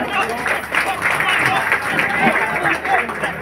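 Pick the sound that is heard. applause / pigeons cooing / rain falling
applause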